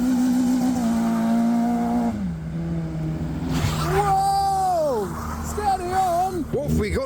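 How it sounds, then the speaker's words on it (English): Cars pull away from a car show, with engines revving and rising and falling in pitch as they pass nearby, while voices talk over the passing traffic. "But I can hear cars leaving, so to the exit's where I'll go."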